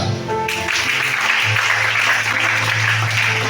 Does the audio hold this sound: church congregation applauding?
yes